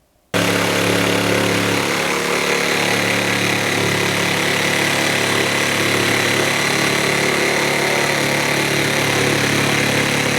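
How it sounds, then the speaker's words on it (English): A jigsaw cuts into drywall while a shop vac runs right beside it, a loud, steady mechanical roar and whine that starts abruptly and holds constant throughout, with no voices. "I'm going to use a jigsaw and then I'm going to hold my shop vac right next to it"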